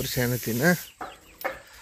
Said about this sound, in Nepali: यो हाम्रो कुखुराको खोर